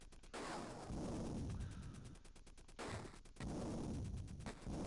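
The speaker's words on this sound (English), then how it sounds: "use your rockets to take out the men in the towers" Rockets fire at enemy towers in the Sega Genesis game Jungle Strike, heard as loud, continuous rapid-fire bursts that repeat in long rattling volleys with brief gaps between them.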